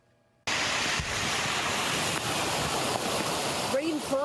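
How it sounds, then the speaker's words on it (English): Steady rain pours down on a wet, slushy street in Worcester on a stormy Tuesday night, a dense continuous hiss filling the scene after a brief quiet start, with a faint whistle-like tone rising near the end. "Rainfall coming down in Worcester Tuesday night"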